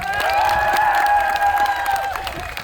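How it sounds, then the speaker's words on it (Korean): Guests at a traditional Korean wedding ceremony applaud and cheer for the groom, a loud, continuous swell of clapping with whoops and voices layered over it, tapering slightly at the close. "다시 한 번 큰 박수 부탁드립니다"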